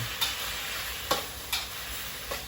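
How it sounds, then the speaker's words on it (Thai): Chinese cabbage stir-fries in a pan with a steady, close sizzle, broken by four quick spatula scrapes spaced about a second apart; no voices. "นี่ผัดผักอะไรครับเนี่ย ผัดผักกาดขาว"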